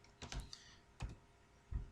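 A few quick clicks sound close and quiet in a still room, three short taps spaced about a second apart, like a computer mouse being pressed while selecting something on screen.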